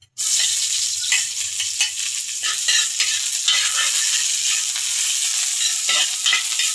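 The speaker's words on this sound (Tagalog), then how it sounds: "Ito, nailagay ko na yung, yung cooking oil. Lagay natin yung sibuyas." Onion dropped into hot cooking oil for pancit sets off a loud, close, continuous frying sizzle that starts abruptly and keeps crackling steadily throughout.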